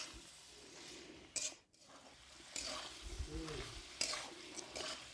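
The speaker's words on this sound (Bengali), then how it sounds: "আবারও সব কিছু ভালো করে নেড়ে দিয়ে আমি কষাতে থাকবো।" Vegetables sautéed in a pan with poppy seed, melon seed and cashew paste for a vegetarian mixed-veg curry, giving a soft continuous sizzle with a spoon scraping and stirring in occasional clinks, close and fairly quiet.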